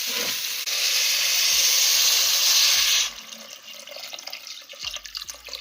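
Water is poured onto roasted rice in a pan for Schezwan fried rice, making a loud, close hissing splash for about two and a half seconds. Then it stops, leaving soft bubbling and a few faint clicks.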